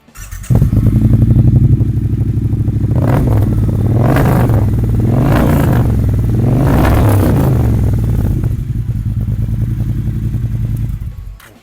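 A 2017 Triumph Bonneville T120 motorcycle with 37,000 km idles loudly up close with a throbbing twin-cylinder rumble, then is blipped through three strong revs before dropping back to a steady idle.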